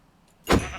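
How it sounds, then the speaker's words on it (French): White sheep in Minecraft let out one short, loud bleat that starts abruptly after a near-silent moment and trails off quickly, close by. "les moutons blancs, ils sont venus à notre île."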